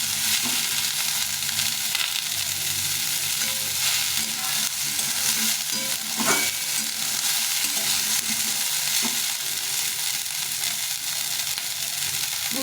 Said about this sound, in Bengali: তো আমি এটাকে ভালো করে একটু নেড়ে নেড়ে ভেজে নিয়ে